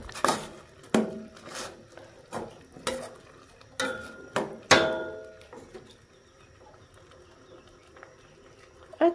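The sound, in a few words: stirring banana heart and mung beans in a pot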